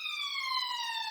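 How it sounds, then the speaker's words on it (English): An ambulance siren wails in a steady, sustained tone with slowly falling pitch, heard alone and moderately loud throughout. "That was the ambulance."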